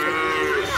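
Cattle at a dairy farm in Karachi's buffalo colony, where cows and buffaloes are kept: one loud, close, sustained moo fills the brief moment.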